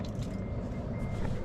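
Warning beeps from the liftgate of a 2024 Cadillac LYRIQ that won't open, repeated evenly over a steady low rumble of surrounding noise, with no voices.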